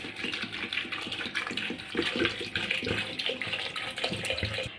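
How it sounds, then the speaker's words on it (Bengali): Water pours steadily into a pressure cooker holding potatoes and jackfruit, a continuous close splashing rush lasting the whole moment with no voices. "এবার জল দিয়ে দেবো।"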